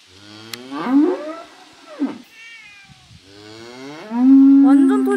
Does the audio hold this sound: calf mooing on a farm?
yes